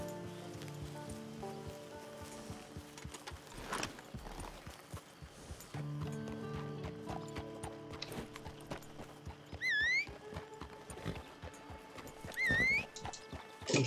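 Horse hooves clip-clopping at a gallop in the video game Red Dead Redemption 2, with steady hoofbeats over rain-like ambience and two loud whinnies near the end.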